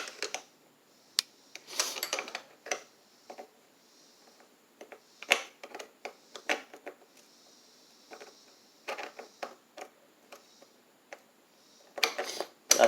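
Sparse metallic clicks and ratcheting taps from a wrench working in a tight spot on a John Deere GT235 lawn tractor, irregular and close, separated by quiet gaps.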